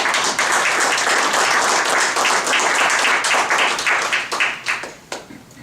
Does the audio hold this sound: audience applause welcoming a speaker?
yes